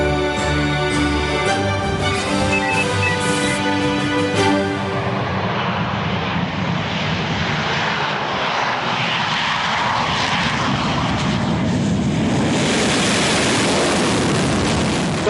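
An Indian Air Force Sukhoi fighter jet passes overhead with a loud tonal engine whine that gives way to a broad, roaring rush of jet noise, sustained and close.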